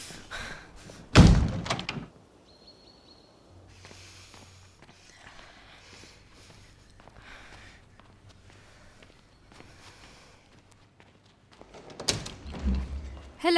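A door in a house is opened and shut, with a loud thump near the start, quiet shuffling and footsteps through the middle, and a second thud at the end, close by with no talking.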